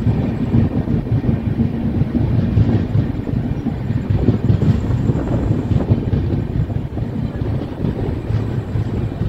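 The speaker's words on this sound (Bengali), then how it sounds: "ট্রেন তার 51 কিলোমিটারের যাত্রা শেষ করে তার নির্ধারিত সময় থেকে মাত্র 4 মিনিট দেরিতে পৌঁছালো মেচেদা স্টেশন" Shalimar Puri Sri Jagannath Express arriving at Mecheda station at night, a steady heavy rumble of rolling railway carriages mixed with gusty wind buffeting the microphone, continuous and fairly loud with no voices.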